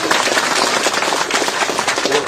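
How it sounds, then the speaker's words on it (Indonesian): Dense applause from a crowd at a building permit handover speech by Anies Baswedan in Jakarta, steady clapping throughout without a break. "Tepuk tangan untuk semuanya."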